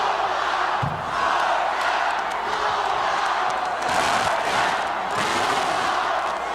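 A large, enthusiastic basketball crowd roars and cheers inside the Georgia Coliseum at a college game, a dense sustained wall of voices that swells and falls with sharper bursts of shouting.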